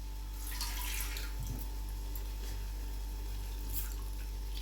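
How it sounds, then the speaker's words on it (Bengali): Water is poured into a pan of raw banana kofta curry, a faint trickling splash over a steady low electrical hum. "এবার আমি একটু কিছুটা জল দিয়ে দেবো।"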